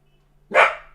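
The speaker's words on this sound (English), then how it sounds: "He just barked." A single sharp dog bark close by during a live trading session, one short burst standing alone over a faint steady electrical hum.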